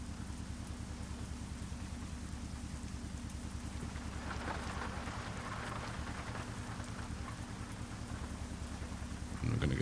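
Steady rain patters over a low rumbling drone while driving a heavy load in a truck game, with a brief swell of noise midway and a louder thump at the end.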